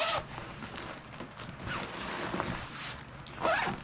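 A zipper on a bag drawn open in a few short rasping pulls, close and moderately loud, with light handling noise in between.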